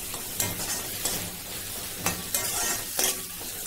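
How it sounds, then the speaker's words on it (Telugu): A large cut onion fries for green chilli chicken, giving a constant close sizzle. Periodic scraping strokes of stirring in the pan sound over it, with no speech. "కట్ చేసుకున్న ఒక పెద్ద సైజు ఆనియన్ ఇందులో వేద్దామండి. ఈ ఆనియన్ చాలా బాగా ఫ్రై అవ్వాలండి."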